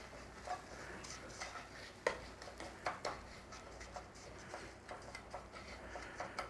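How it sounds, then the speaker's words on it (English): A utensil scrapes and taps softly against a pan as breadcrumbs are stirred into melted butter for a tuna and broccoli casserole, a faint irregular patter of light clicks with no talking. "Give it a little stir around."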